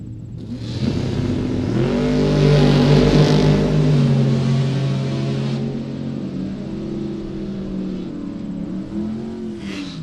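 Drag racing Camaro and Nova launching side by side at a Super Pro event, loud engines roaring and revving up, swelling to a peak and then trailing off as the cars pull away.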